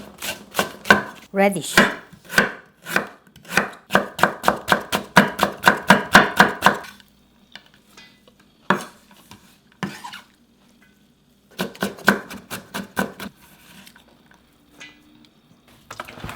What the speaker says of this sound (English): Chop it up, this buchu and green onion.